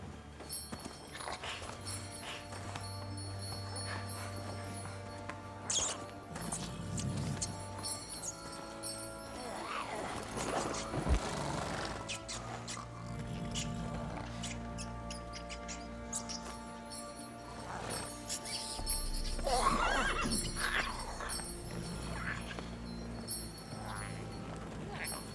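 Roach the horse is ridden in The Witcher 3, with soft clip-clop hoofbeats over steady game music and ambience, and voices talking at times.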